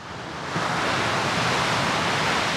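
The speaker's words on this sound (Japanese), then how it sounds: "はい、それでは波の音をお聞きください。" Steady roar of sea waves on a beach at Numazu, a dense, hissing wash of surf that rises after a moment and then holds constant, close and fairly loud, with no speech.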